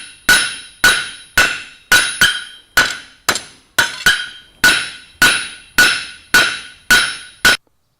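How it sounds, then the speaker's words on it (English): Hammer blows forging a taper into hot steel on an anvil, about a dozen loud, evenly spaced metallic strikes ringing close up, each decaying quickly before the next, with no talking. "To forge a taper successfully, you have to remember to start at the end and work your way down the length of the material."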